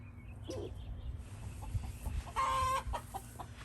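Chickens clucking near a backyard coop, with a rooster's crow rising clearly partway through over steady low outdoor background noise, no one speaking.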